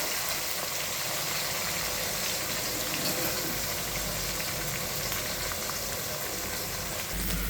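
Steady, dense sizzling of roughly 250 grams of onions frying with meat and bay leaves in a large pot, wedding-style home cooking, a continuous hiss and crackle heard close up with no talking.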